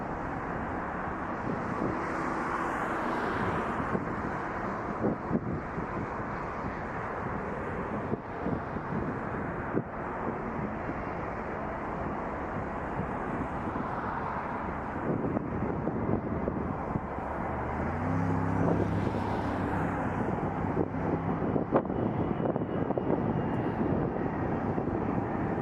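Aircraft engines at Toronto Pearson airport with planes lined up on a crowded taxiway at night, a steady distant roar and rumble running throughout, swelling slightly in the second half, with wind buffeting the microphone.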